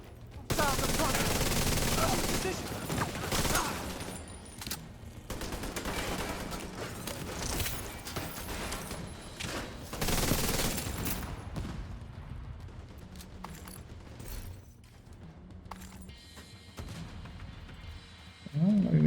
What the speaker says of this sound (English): That's flame rounds